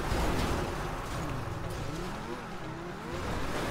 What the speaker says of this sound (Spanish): Madre mía, cuánto coche por aquí.